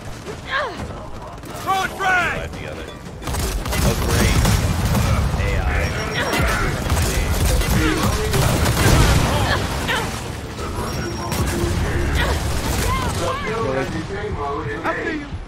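Grenades and gunfire in a shooter video game, a dense, loud run of booms, bursts and mechanical clatter that carries on continuously, with people talking over it.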